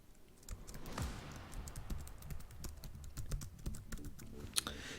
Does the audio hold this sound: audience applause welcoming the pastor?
no